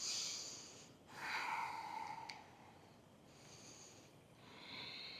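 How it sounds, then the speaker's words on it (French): Five slow, deep yoga breaths drawn in and let out, airy and soft, close to the ear in a quiet room. "je viens prendre 5 longues respirations"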